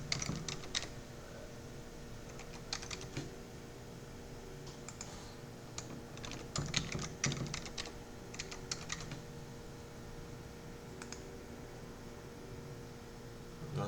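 Keys click on a computer keyboard as a password is typed while setting up a Windows Server 2022 domain controller, quick irregular bursts of soft taps over a steady background hum, close and faint, no talk.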